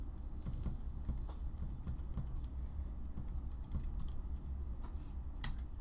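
Fingers type on a computer keyboard in quick, irregular bursts of light clicks and taps that are close but soft, with no speech.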